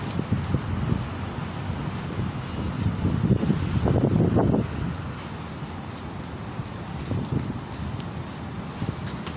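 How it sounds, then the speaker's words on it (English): Outdoors, wind buffets the microphone with a continuous, loud, rumbling roar that swells midway and then settles back. No one speaks. "if the wind could calm up, it'd be great"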